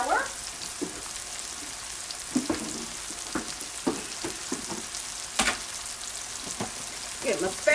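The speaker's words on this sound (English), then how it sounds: "Make me a little roux in here." Flour roux cooking in a pan while a spatula stirs it, giving a soft, steady sizzle broken by scrapes and clinks at irregular intervals, close by and moderately quiet.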